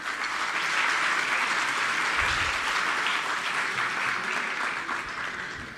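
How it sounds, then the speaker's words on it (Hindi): An audience at a Delhi government education event gives loud applause for the public works team on stage, with dense, sustained clapping that holds steady throughout and eases only slightly at the end. "ज़ोरदार तालियाँ।"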